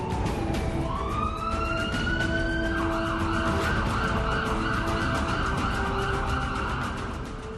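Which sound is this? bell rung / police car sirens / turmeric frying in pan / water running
police car sirens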